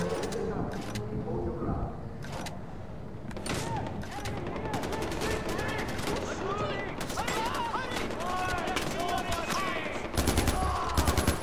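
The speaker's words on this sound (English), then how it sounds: "it's really hard to shoot in this game" Rapid bursts of gunfire in the Far Cry 4 video game, dense automatic fire and scattered shots continuing loudly throughout with faint game sounds mixed in.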